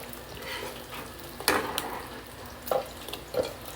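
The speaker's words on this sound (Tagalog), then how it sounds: "ito lagyan ko na siya ng chicharon guys" Chicharon pieces drop into a pot of mung bean soup, giving soft sizzling and bubbling with a few clinks and splashes against the pot, close by and fairly quiet.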